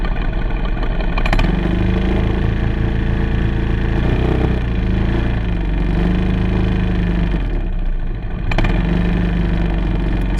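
Racing kart engine running loud and steady throughout, with a continuous mid-pitched drone and harmonic bands that shift as revs change, and brief throttle surges near the start and end.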